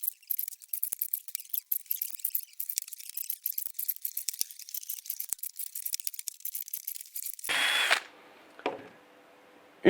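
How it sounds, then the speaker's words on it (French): Power drill pre-drilling holes at a marked point in the slats of an old Compost Nature wooden composter, a close, high whining bore of about eight seconds with rapid stuttering pulses, then a brief louder burst and a short final whirr. "Positionnez votre gabarit de perçage en bout de lame et pré-percez au repère B."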